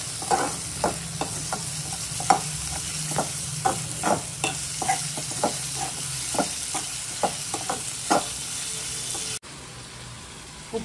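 Mutton liver fries in a pan with a constant sizzle while a spatula scrapes and stirs in quick, regular strokes close by. The stirring stops near the end, leaving a quieter hiss.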